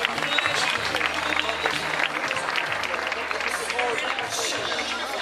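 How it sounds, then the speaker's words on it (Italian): Audience applause at a casting event in Castrofilippo's Chiesa Madre, steady dense clapping mixed with crowd babble and voices, continuous and fairly loud across the whole stretch. "Un applauso non costa nulla"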